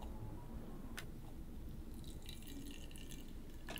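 Hot water poured over black bean tea, a steady low liquid rush with a faint trickle and a small splash near the end, close and continuous.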